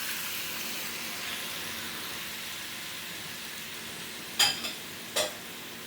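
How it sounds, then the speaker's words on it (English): Beef sizzles in a pan for pepper steak with a soft, even hiss of frying that holds steady, broken near the end by two short, sharp clinks of a utensil. "we're going to add our beef into our pan"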